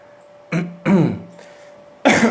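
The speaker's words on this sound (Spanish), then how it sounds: "la tos era inevitable" Three short, harsh coughs or throat-clearing bursts sound close up, spaced apart, with quiet between them.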